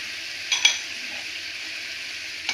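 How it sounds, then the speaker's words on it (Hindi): Chicken with tomatoes and dried plums frying in a pot gives a steady close sizzle, with a couple of brief clinks of a spoon stirring. "अभी इसको तब तक भूनेंगे जब तक हमारे टमाटर गल नहीं जाते"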